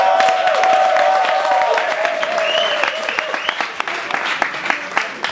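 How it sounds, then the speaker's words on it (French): Crowd at a bar event applauding and cheering for the night's performers, sustained clapping with voices rising through it and a sustained tone sliding underneath, gradually thinning into scattered claps. "Faites-moi un maximum de bruit pour tous ceux qui sont passés ce soir."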